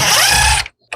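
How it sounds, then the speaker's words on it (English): A power driver spins out a screw holding the water valve on an LG top-load washer, a loud whirring burst that stops abruptly, followed by a brief clack. "Remove the 3 screws that hold it in place."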